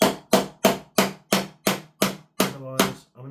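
A trigger pack pin on a Double Eagle airsoft gun is tapped in with an improvised tool, giving nine sharp, evenly spaced knocks at close range, the last few ringing slightly.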